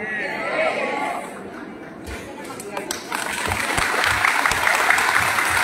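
An audience at a political gathering in San Leonardo, Nueva Ecija claps, the applause swelling from steady to louder and fuller over a few seconds, mixed with crowd chatter and close, loud.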